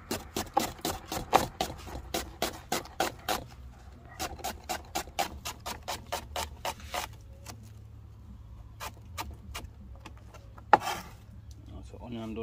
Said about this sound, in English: first I cut up some onion